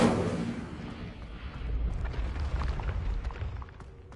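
An Incendio fire spell cast in Hogwarts Legacy, with a sharp onset that settles into a low, rumbling, crackling roar of flame lasting a few seconds at moderate loudness.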